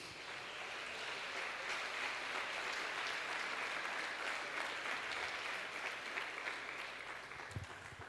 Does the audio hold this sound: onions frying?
no